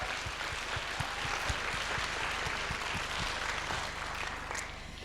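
Audience applause at a middle school band winter concert, a steady wash of clapping from a large crowd at moderate distance, sustained evenly with no talking.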